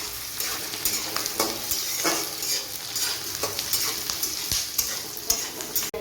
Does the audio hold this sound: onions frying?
yes